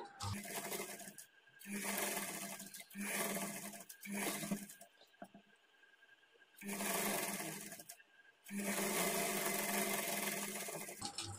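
A sewing machine stitches plain blouse fabric in several bursts, each lasting a second or two, and one longer run comes near the end. Short quiet gaps separate the bursts, and the sound is close and moderately loud.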